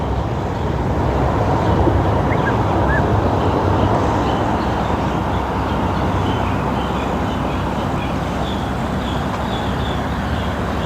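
A train passes by a lakeside garden park, heard as a steady, continuous low rumble that holds at an even level for the whole stretch, with no voices over it.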